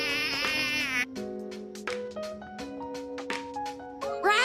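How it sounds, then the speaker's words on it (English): A cartoon-style mosquito buzz: a high, thin, steady whine for about one second, followed by light background music. "Mosquito."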